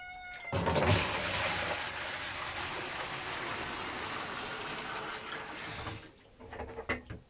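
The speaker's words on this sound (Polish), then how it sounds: "Ja wlewam dwa wiadra 10-litrowe ciepłej wody, nieprzegotowanej." Warm, unboiled water pours steadily into a 10-litre bucket for sugar syrup for bees, a broad continuous gush that starts abruptly, runs for several seconds and tapers off, followed by a few clinks.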